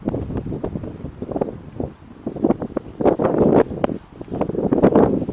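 Wind gusting around a DJI Mavic Pro drone in flight outdoors near trees, buffeting rumble and irregular rustling bursts rising and falling close to the microphone.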